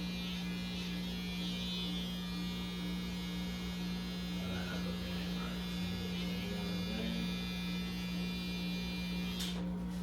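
Electric clippers or a shaver run steadily during a haircut in a barbershop, a constant low buzzing hum filling the background with faint voices underneath.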